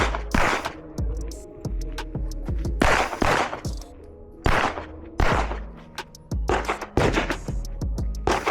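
Repeated gunshots at an outdoor shooting range during a shooting-and-moving drill, loud sharp reports in irregular bursts and quick doubles spread across the whole stretch, with no talking.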